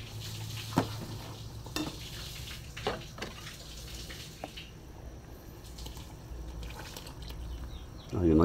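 Fresh blood being stirred into Tagalog-style batchoy in a pot: a spoon scrapes and clinks against the pot in scattered strokes over a low, steady simmer, with a louder bump at the very end.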